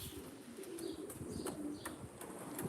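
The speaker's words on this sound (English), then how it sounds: "Pigeons move and sound different," Racing pigeons coo softly nearby in a low repeated burble, with light rustling and a few faint clicks around them.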